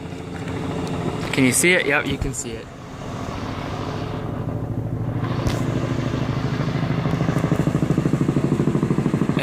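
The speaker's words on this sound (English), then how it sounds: "That's the helicopter, guys. It's coming back right over my house." A helicopter flying low overhead and circling above a house makes a steady droning rumble that grows slightly louder and takes on a faint pulsing beat toward the end, while people talk briefly over it.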